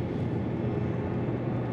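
Airliner cabin noise on descent toward London near Greenwich after a flight from Istanbul: a steady, dense low engine and airflow drone filling the cabin, even and unbroken, with no voices.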